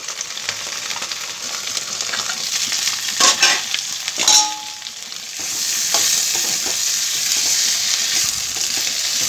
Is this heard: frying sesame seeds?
yes